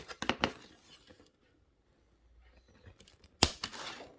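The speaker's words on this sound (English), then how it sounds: "So now we need to cut the wires." Fine jewelry wires are snipped one at a time with small cutters, producing a quick cluster of sharp clicks at first, then a quiet pause before another single crisp snip, all close and fairly faint.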